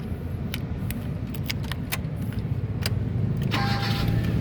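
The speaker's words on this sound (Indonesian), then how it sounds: "sekarang kita coba nyalakan mobil" A 2011 Hyundai Grand Avega 1.4 GL automatic is started, with faint clicks and key jangles before the engine catches and settles into a steady idle near the end.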